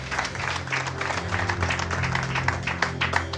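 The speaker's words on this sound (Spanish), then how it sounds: "Dale un fuerte aplauso al Señor." A church congregation applauds together in a dense, steady burst of clapping that holds evenly throughout, filling the room.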